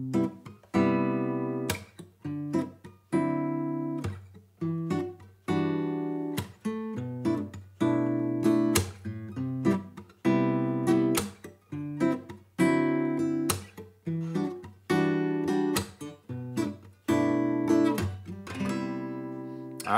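An acoustic guitar plays a fingerstyle jazzy chord progression, thumb and finger alternating with a percussive slap on the strings, in a steady repeating rhythm for about twenty seconds, close and clear with no talking.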